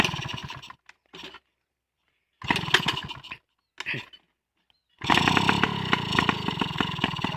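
A small RC engine fitted to a bicycle sputters through short bursts of starting attempts broken by silences, then catches and revs loud and buzzy, a raspy high-pitched two-stroke whine close by.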